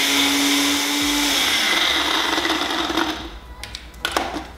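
A blender grinds frozen banana for a smoothie bowl, its loud motor whirring steadily, then changing pitch and sputtering into uneven bursts as the thick frozen mixture catches and shifts.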